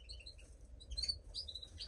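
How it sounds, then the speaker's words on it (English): A British goldfinch, a 2023 bird, gives a string of faint, high, quick chirps and twitters, several short calls in a row at a distance, with no talk. "This is another goldfinch here,"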